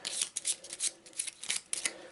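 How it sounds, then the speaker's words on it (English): Arkham Horror relationship cards being shuffled by hand during board game setup: a quick run of crisp, papery riffling bursts in an uneven rhythm, close and fairly quiet, with no talking. "So let's give these a good shuffle."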